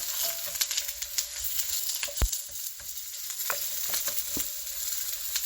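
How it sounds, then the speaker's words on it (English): Onions sizzle steadily in a hot pan, with a few brief clatters and scrapes as they are turned; the frying stays continuous and fairly close with no voices. "It's time for me to turn these onions over."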